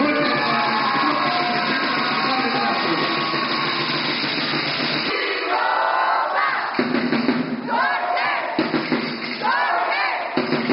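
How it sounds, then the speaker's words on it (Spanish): A crowd cheers and shouts with a roaring wash of noise, swelling in bursts with scattered applause, loud and continuous. "¡El aplauso fuerte!"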